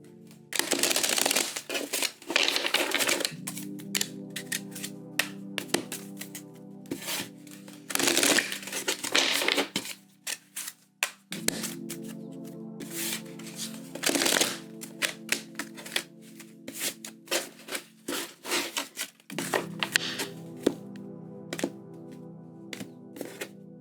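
Tarot cards shuffled by hand in three bursts of rapid riffling clicks, each ending in a brief pause, close and crisp in a quiet room.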